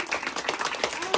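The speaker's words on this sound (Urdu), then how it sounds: "تالیاں بجاؤ تالیاں بجاؤ" Children clapping at a party, a quick, uneven patter of hand claps sounding near and fairly loud with voices mixed in underneath.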